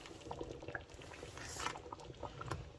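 Chickpeas simmering in a pot of water for halwa puri chana, a steady low bubbling and faint patter of boiling liquid, quiet and continuous with no voices.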